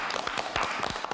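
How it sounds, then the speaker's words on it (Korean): A short burst of clapping from a small group at a traditional Korean onggi pottery-making workshop: quick, dense hand claps heard up close for about a second. "그래, 박수 한번 치자."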